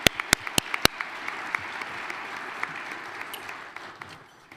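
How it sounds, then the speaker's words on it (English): A few sharp, loud claps from a ring-ceremony audience honoring sponsors at a high school award event, quickly thinning into scattered, fading applause. "Let's give them a round of applause for this amazing."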